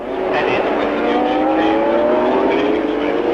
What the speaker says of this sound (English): Drivers can now warm the cars up on the short length round by the south curve